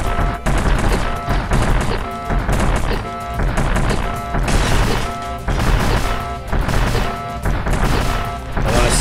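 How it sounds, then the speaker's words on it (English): Explosions and crashing blasts go off in repeated bursts in the Metroid fan game AM2R, layered over loud, driving game audio, with several heavy booms and rattling hits coming in quick waves. "it's already causing all these explosions"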